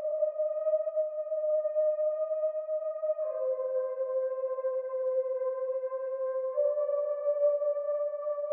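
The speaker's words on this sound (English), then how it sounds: "It's this sound from Omnisphere called the Boys Choir Ease" The Boys Choir Ease synth preset from Omnisphere plays soft, pure sustained choral tones that shift smoothly between a few held chords, heard alone and fairly quiet.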